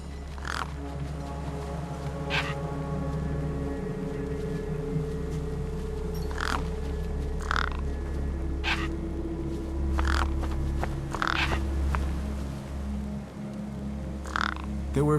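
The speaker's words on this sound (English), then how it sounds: "The gang birds were eyeing up the corpse hungrily." Crows caw in a video game scene of gang birds around a corpse by a rock, harsh calls repeating at irregular intervals over a steady low hum and ambient game music.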